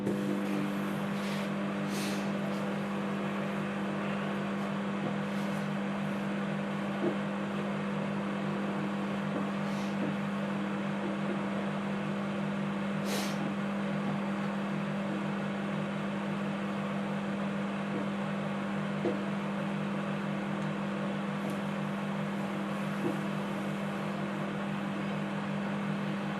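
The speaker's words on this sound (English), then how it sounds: "So in the microwave I'll put it in for a minute." Steady mechanical hum of a running microwave oven, with a constant low drone and faint background hiss, running continuously without pause.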